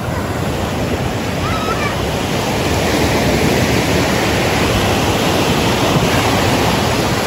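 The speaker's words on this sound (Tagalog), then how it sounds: "Grabe, lakas ng alon." Strong ocean waves crash and roar in a loud, continuous wash of surf, with wind buffeting the microphone throughout.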